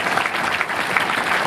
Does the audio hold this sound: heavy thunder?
no